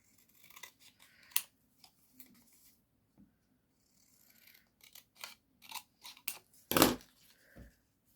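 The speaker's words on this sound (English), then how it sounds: "Try and cut a bit straighter if I can." Scissors snip paper for a journal pocket in quiet, isolated cuts, scattered single snips building to a cluster of sharper, louder cuts near the end, close to the ear with no talk.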